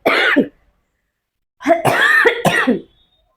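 Harsh, close coughing: one short cough, a pause, then a longer strained fit of two or three coughs with throat clearing.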